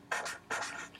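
A marker or chalk writes a number on a board in two quick scratchy strokes, close and fairly quiet, with no voice heard.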